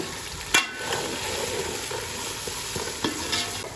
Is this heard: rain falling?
no